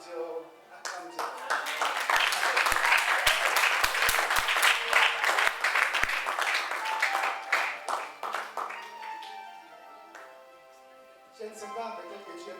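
A church congregation breaks into dense, loud applause and clapping during a worship service, with voices mixed in, before the clapping thins and fades out near the end.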